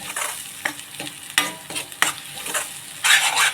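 Ground masala paste for a Malvani white pea usal is sautéed in a pan, with repeated scraping stir strokes over a crackling sizzle that swells louder at the end.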